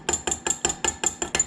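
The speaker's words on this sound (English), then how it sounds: "let me give it a little stir first. Make sure that base is nice and going. Mix pretty thoroughly." Nine quick, evenly spaced clinks as a tool stirs a glow-in-the-dark base mixture for fly-tying beaver bugs in a small container, crisp and close with no talk.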